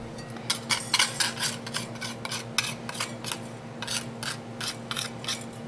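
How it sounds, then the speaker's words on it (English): Hand whisking cookie batter for cardamom snap cookies, a wire whisk scraping and clicking against the bowl in quick, uneven bursts of rasping strokes, close and fairly steady with no talking. "I'm gonna get my whisk here."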